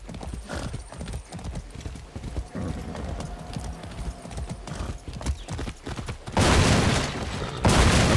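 Rapid hoofbeats of a horse in Far Cry 6 pound in a steady galloping rhythm amid crashing and rumbling effects, with louder bursts of breaking noise toward the end.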